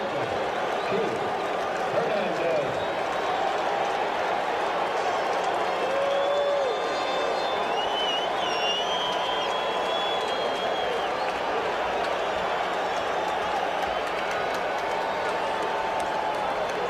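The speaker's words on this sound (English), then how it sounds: "The crowd is showing life." Baseball stadium crowd at the 1986 World Series between the Red Sox and Mets, a steady broad roar of murmur with scattered applause and cheering under a commentator's voice.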